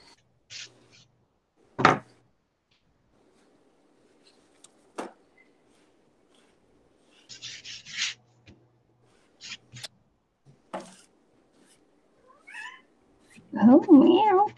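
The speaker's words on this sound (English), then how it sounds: "Oh, meow." A cat meows a couple of times, close and brief, near the end of a mostly quiet indoor stretch broken by scattered small clicks and taps.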